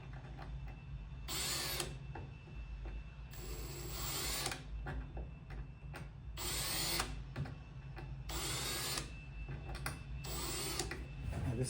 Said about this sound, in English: just drill a pilot hole